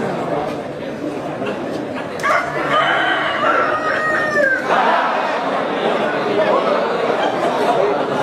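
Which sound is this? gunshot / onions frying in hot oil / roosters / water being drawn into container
roosters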